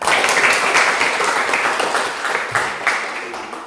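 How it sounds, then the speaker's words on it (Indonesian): A classroom group claps together after a lesson, a loud, dense burst of applause that gradually thins and fades over a few seconds. "Beri tepuk tangan."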